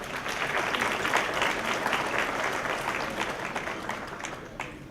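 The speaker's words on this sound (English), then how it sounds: "let's give yourselves a round of applause for that" Guests at a scholarship luncheon break into a round of applause, a dense, even clatter of many hands held for about five seconds before easing slightly.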